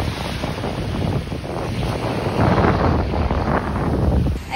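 Sea surf at Sierra Beach rolls and hisses under strong gusting wind that buffets the microphone, steady and close throughout with no voices.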